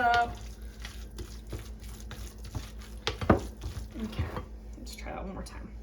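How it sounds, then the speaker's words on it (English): Crab cake mixture is stirred and squished in a bowl, with soft wet churning and light scrapes close by and someone talking over it. "Mix it all up."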